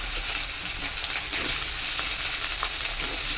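Pieces of potato and pumpkin frying together in hot oil: a dense, continuous sizzle and hiss, loud and close, with faint stirring touches and no voices.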